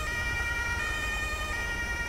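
Police siren in the video game Grand Theft Auto 5, a loud, steady electronic wail with sharp harmonic tones held close and continuous, with low engine rumble underneath and no talking.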